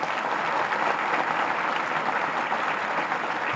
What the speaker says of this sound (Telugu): మీ అమ్మకు చప్పట్లు కొట్టే